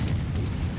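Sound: warship broadside hitting the player's ship, World of Warships video game

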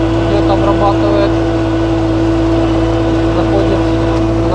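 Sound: tractor driving through field while spraying

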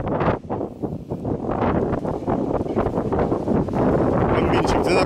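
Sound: strong wind at the seashore

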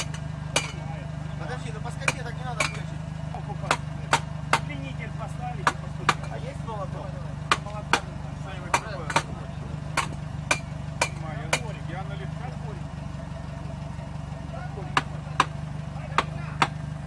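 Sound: hammer striking a stuck wheel hub

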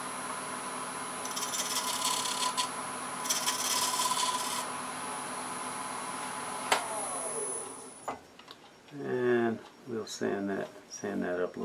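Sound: sanding turned wood on a lathe

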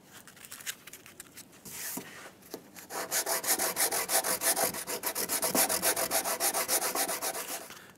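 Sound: sanding Bondo body filler on a truck cab corner

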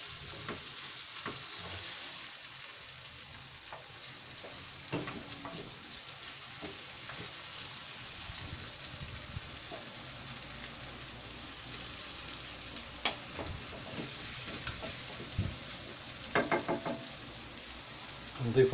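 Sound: bell peppers frying and sizzling in a pan

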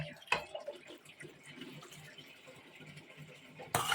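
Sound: rinsing mushrooms under running water

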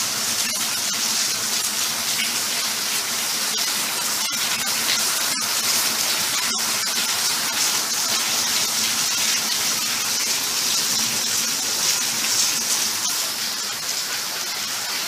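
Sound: heavy rain pouring

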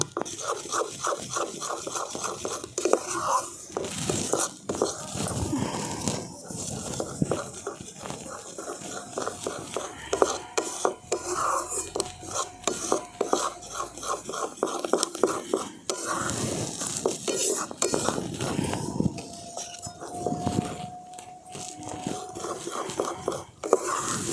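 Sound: mixing rice flour batter in a bowl

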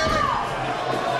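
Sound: boxing crowd cheering

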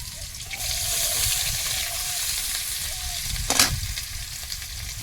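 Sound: chopped onion frying in oil

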